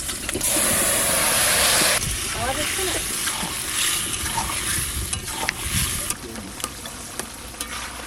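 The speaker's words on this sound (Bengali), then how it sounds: "তেল দিলাম তেজপাতা আর জিরে দেবো এতে কোনো মশলা বাটাবাটি দেবো না এদের কটা কাঁচা লঙ্কা দিচ্ছি তরকারিটা দিয়ে" Vegetables frying in hot oil with bay leaf, cumin and green chilies: a loud, steady sizzle opens, then settles into crackling hiss with stirring scrapes and spatula clatter, while someone talks over the cooking.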